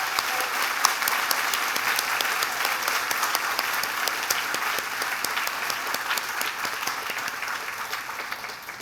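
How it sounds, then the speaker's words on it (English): Steady, sustained applause for guests at a pharmacy school white coat ceremony, with a large seated audience clapping continuously and evenly, slowly tapering off. "A round of applause for our guests."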